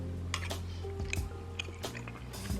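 Close-up chewing of a mouthful of biscuits and gravy: soft, wet, irregular bites and squishes, a handful of moist smacking bursts in sequence, with no speech.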